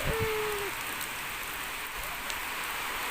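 Rain patters steadily throughout, a broad even hiss with a few faint drops, while a brief tonal sound slides at the very start.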